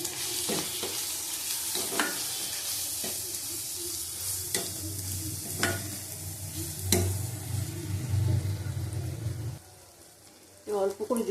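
Ghugni masala with egg, peas and about a spoonful of cumin powder is stir-fried in a pan. A soft sizzle runs underneath a series of sharp spatula scrapes and knocks, with a louder burst of scraping at the end.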